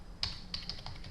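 Fingers tapping on a computer keyboard while entering code, a handful of light, quiet key clicks spaced irregularly over a faint background hum.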